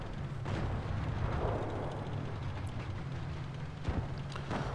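Tank cannon fire in World of Tanks Blitz while a Japanese Ke-Ni light tank engages artillery: a steady low rumble of battle noise with a sharp boom near the end, loud and without speech.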